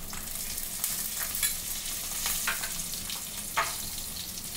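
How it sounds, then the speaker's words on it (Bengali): Chicken frying in a pan with salt and turmeric gives a steady, close sizzle with a few soft stirring scrapes, and no one speaks. "নুন হলুদ দিয়ে ভেজে নেব।"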